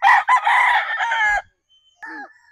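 An RB stag rooster, a Pure Paul Spark Gray, crows once close and loud in a long ragged call, followed after a brief pause by a short softer cluck.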